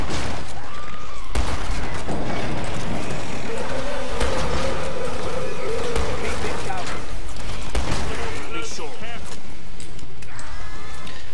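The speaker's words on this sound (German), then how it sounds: "Ihr seht, ich lade immer wieder zwischen den Schüssen meine Shotgun nach." A shotgun in the video game Killing Floor 2 fires in bursts, broken up by mechanical reload clicks and clacks amid chaotic combat noise, with a person talking over it.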